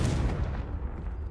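The Confringo blasting spell from a Harry Potter video game goes off as a heavy, booming explosion, with a loud, close low rumble that carries throughout.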